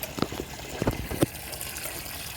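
Water splashes and trickles in short bursts, close by, with a few sharper spatters over a steady wet hiss.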